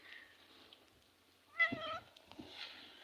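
A pet cat gives one clear, fairly close meow outdoors during snowfall in Edirne, against quiet background noise.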